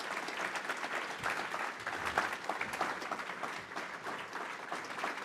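Audience applause fills a Memorial Day breakfast hall, a steady dense wash of clapping from many hands at moderate distance, sustained throughout without speech.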